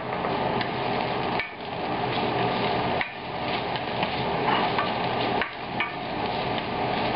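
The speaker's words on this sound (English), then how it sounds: "So I'm going to begin frying the ginger and the garlic." Steady, dense sizzling of ginger and garlic frying in hot oil, continuous and fairly loud, with a few brief dips and clicks from stirring.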